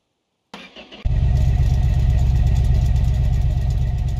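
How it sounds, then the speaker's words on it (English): Car engine with the exhaust removed starts up and settles into a loud, raw, rumbling idle, close by, with no one talking. "let's go ahead and see how it sounds without exhaust"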